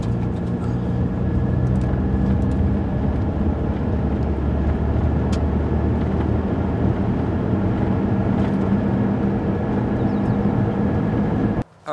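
Steady, loud cabin rumble from a car driving along a road in Bighorn country, a continuous low drone of engine and tyres with no voices that cuts off abruptly at the end.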